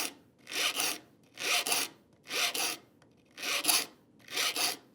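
Hand saw teeth being sharpened with a file: five steady, evenly spaced rasping strokes, each about half a second long, close and crisp with short quiet gaps between them.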